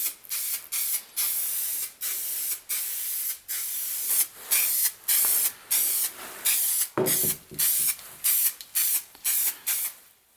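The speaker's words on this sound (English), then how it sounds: "Now the thin dust coat has flashed off and I can put on a thicker coat of primer." Primer goes on Jaguar XJ6 cam covers in a thicker coat from a spray can, heard as a series of close, steady hissing bursts, each about a second long with short gaps between them, about a dozen in all.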